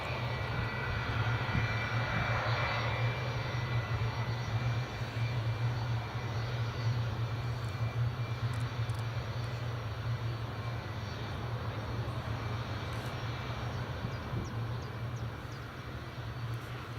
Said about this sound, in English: There's the United single engine taxi. You can hear the other one just shutting down.